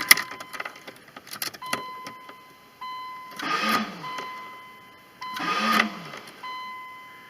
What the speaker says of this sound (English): our brand new starter appears to be defective. It spun once, didn't engage, and then it wouldn't do anything.